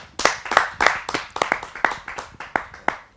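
Audience at a Hindi poetry gathering clapping to welcome a poet, about ten distinct, evenly spaced claps ringing out close and loud with no talking.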